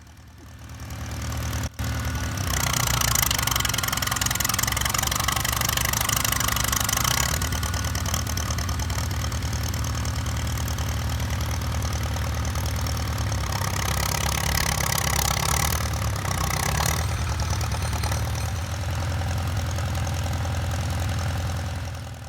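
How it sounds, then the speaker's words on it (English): A Farmall tractor engine runs steadily while digging a hole, a loud, continuous low rumble with a labouring, slightly knocking character and brief surges in effort, heard alone without talk. "Farmall does do a pretty good job of digging holes, though."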